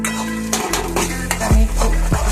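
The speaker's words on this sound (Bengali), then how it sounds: "আমি একটু নাড়িয়ে নিই" A dish frying in a pan is stirred with a utensil, a loud close sizzle broken by repeated scraping and clinking strokes against the metal, no talking.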